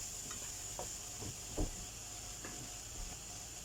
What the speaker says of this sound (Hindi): हम ये थोड़ा जिहा देसी घी पा के तेन थोड़ा जिहा फ्राई कर लूँगी।